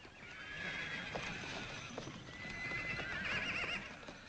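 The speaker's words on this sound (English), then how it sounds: "Nice bunch of Mustangs there." A herd of wild mustang horses on open range, with a steady busy rumble of hooves and movement throughout and a couple of whinnies rising above it, no talk.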